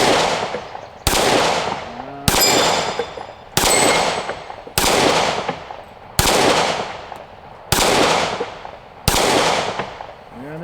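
A compact pistol is fired outdoors in a slow, evenly paced string of eight loud, sharp shots, each ringing out and decaying before the next, with no talking.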